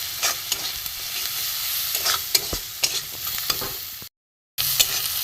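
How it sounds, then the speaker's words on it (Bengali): Rohu fish curry masala is sautéed in a pan with a spoon, giving a loud, close sizzle with repeated scraping stirring strokes and a brief silent gap near the end. "এবার আমি এটাকে কষবো।"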